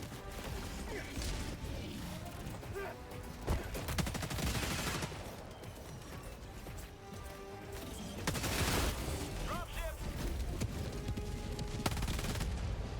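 Rapid gunfire from a video game, with bursts of automatic fire, crashing impacts and mechanical clatter running continuously and loud throughout, denser around the middle and near the end.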